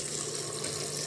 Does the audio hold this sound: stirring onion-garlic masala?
no